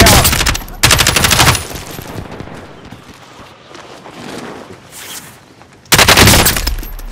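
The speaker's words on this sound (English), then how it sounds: "They're shooting at me!" Loud automatic gunfire in the video game Call of Duty: Modern Warfare: rapid bursts at the start, a quieter rattling stretch through the middle, then another heavy burst at the end.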